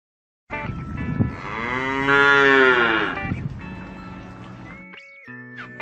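A single cow gives one long, loud moo that rises and then trails off, followed by a brief higher call near the end.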